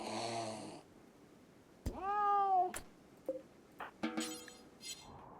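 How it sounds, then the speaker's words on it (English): Cougar in the video game RimWorld snarling and growling, several short harsh cries with gaps between them, fairly quiet overall, no talking. "the cougar is not a house cat. It would not think twice about murder."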